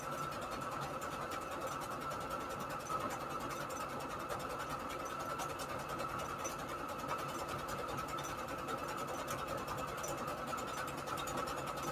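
A sewing machine stitches fabric onto index cards with a fast, detailed stitch, a steady, even mechanical whir and needle rattle that runs continuously at moderate volume without talk.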